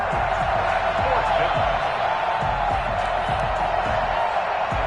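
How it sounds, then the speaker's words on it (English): A stadium crowd at an American football game roars and cheers steadily for the defense. The noise is a dense, continuous wash with no break. "How about some applause for the defense there?"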